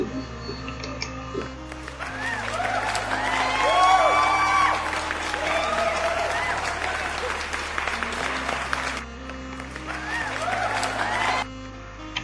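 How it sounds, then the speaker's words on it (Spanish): Applause for seventh-grade students in a language class, a crowd of clapping hands swelling to a loud peak then holding steady over a soft sustained musical backing before fading. "les damos un gran aplauso y también un aplauso de motivación para aquellos que no lo rindieron"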